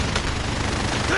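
Enemy gunfire in a video game, a rapid rattling burst of shots filling a very short moment, steady and fairly loud throughout.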